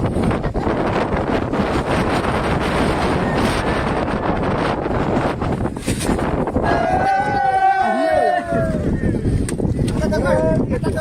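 Loud, steady wind at Amboli waterfall buffets the microphone with a continuous roar, joined later by faint whistling tones.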